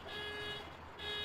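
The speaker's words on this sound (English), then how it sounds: "Somebody's alarm's going off." An alarm beeping steadily in the distance near a camper trailer during a weighbridge stop, a faint continuous electronic tone that dips briefly and returns, no voices over it.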